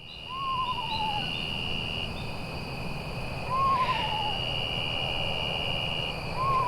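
Eastern screech owl giving a soft, wavering warble, three brief descending trills spaced a few seconds apart, fairly faint over steady outdoor noise and a high insect-like drone.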